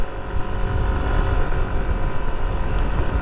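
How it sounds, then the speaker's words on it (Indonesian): A Honda CRF motorcycle rides along a village road, heard as a continuous close engine drone with wind buffeting the microphone, steady and fairly loud with no talk. "enak pakai motor begini nih."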